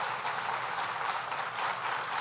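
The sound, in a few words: audience applause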